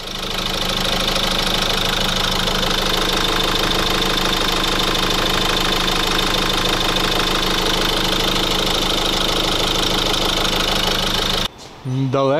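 A Renault Master 2.3 dCi M9T van diesel engine runs steadily and loudly with a dense rattling knock throughout, cutting off abruptly near the end.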